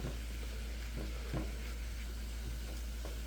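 Ground meat browns in a pan with a whole garlic clove, a steady dense sizzle filling the whole moment with a few soft stirring scrapes, close and loud, no voices.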